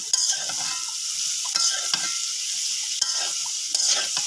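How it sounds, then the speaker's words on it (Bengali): Sweet gourd fries in a pan over a clay stove, a constant bright sizzle broken by several sharp scraping stirs of a utensil, close up with no talking. "এখন মিষ্টি লাউ ভাজা এটা দিয়ে দিতেছে"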